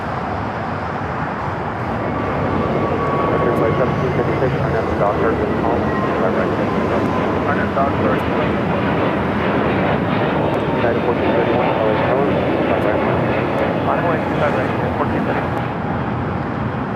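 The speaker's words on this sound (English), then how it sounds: "Asiana Flight 204, the flight coming in from Seoul, next arrival on the north side." An Asiana airliner in from Seoul lands at Los Angeles International Airport, a steady broad jet roar that swells after the first couple of seconds and holds loud throughout, with faint radio chatter underneath.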